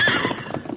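A horse neighs in a loud, close whinny with clip-clop hoof sounds, used as a sound effect in a Lone Ranger audiobook drama; brief and full-bodied with no speech over it.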